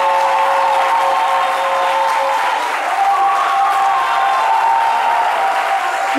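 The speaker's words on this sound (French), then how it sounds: "je me suis laissée noyer par les applaudissements du public" A studio audience applauds loudly and continuously at a midday television show, a dense wash of clapping that holds steady throughout with faint crowd murmur beneath.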